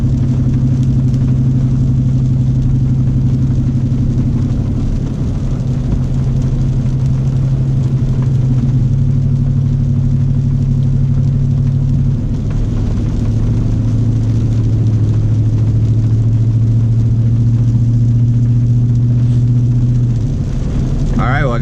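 Ford truck running an OZ Tuning Omega tune rumbles steadily from inside the cab on a first drive, with a low engine drone that holds at one pitch and then shifts through gears.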